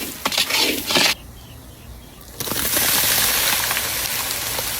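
Onion sizzles in a pan with green chilli thecha, turmeric and Kashmiri chilli powder, a loud broadband frying hiss that drops away for about a second mid-clip, then returns steady and strong. No one speaks.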